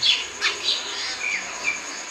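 Sparrows chirp in quick, bright, high calls near clay-pot nests in a house courtyard, several overlapping tweets, close and clear.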